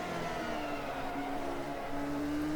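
A Swift-chassis CART race car in the AMS racing simulator screams along at high revs with a steady engine whine and slight pitch shifts between gears, loud and continuous with no voices.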